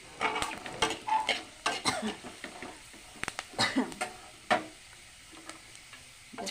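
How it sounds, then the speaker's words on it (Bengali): Two or three cardamom pods drop into hot oil in a pan, a soft sizzle broken by clicks, scrapes and stirring taps from a utensil, close up, with some talk in the background. "গন্ধটা ভালো আসার জন্য দুই তিনটে এলাচ দিয়ে দিলাম"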